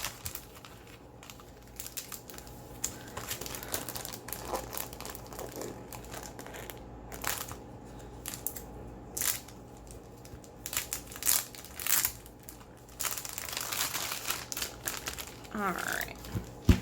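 Crinkly plastic packaging of a sticker kit being opened, steady rustling and crackling close up with sharper tearing bursts, a person speaking faintly underneath.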